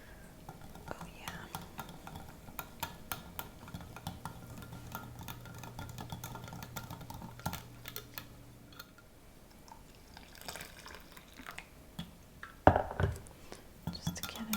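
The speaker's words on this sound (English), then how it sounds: "I'll take the whisk and I'm just gonna keep stirring" Whisk stirring a hot chocolate jello mixture in a bowl, with soft, steady clinks and scraping strokes close up and quiet.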